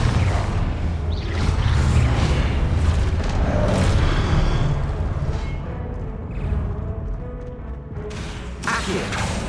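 A Confringo spell explosion in the video game Hogwarts Legacy on Xbox Series X, loud rumbling booms and fiery whooshes blending into a dense, continuous roar that eases off toward the end.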